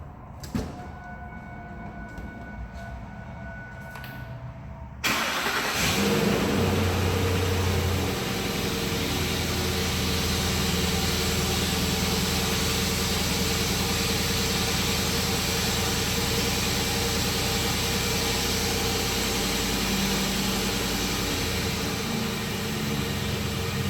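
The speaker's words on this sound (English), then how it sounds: "I'm going to go ahead and start the truck" Ford F-150 truck with a 5.4 3V engine and an oil leak at the oil filter adaptor, cranked and started after a quiet moment, then settling into a steady close idle that hums on continuously.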